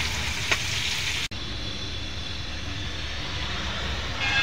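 Garlic and onion frying in a pan, a steady broadband sizzle throughout, briefly interrupted near the start, with a low engine-like rumble underneath.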